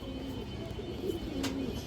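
Pigeons coo softly under steady background hiss, a few low throaty phrases from a large female pigeon of an old line, in a loft of birds for sale.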